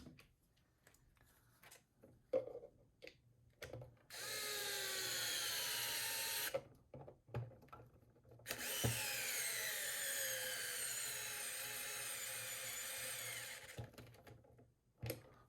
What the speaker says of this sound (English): Sounds like my screwdriver is about to kick the bucket